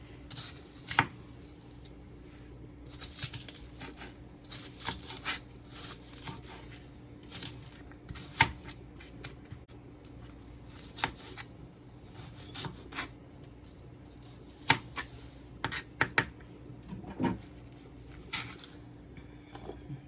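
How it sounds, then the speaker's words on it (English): An onion being sliced for a Jamaican-style curry cow skin with butter beans, heard as a series of quiet, irregular knife cuts against a board, spaced out and close, with no talking. "I'm gonna also cut my onion."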